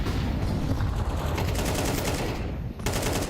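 Sustained AK rifle fire sprays in rapid bursts in a Counter-Strike match, loud and dense with overlapping shots and a short pause near the end, no voices over it.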